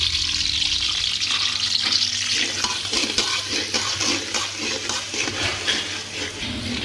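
Onions browning over medium heat in a pan for chickpea biryani, a steady close sizzle and crackle with a faint hiss throughout, no talking.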